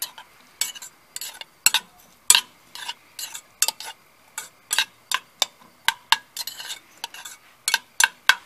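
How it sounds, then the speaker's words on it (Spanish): Sofrito cooks in a pan for Cuban green peas while a utensil stirs it briskly, making rapid, regular metallic scrapes and clinks close by over a faint sizzle. "Entonces ya sofreímos el sofrito"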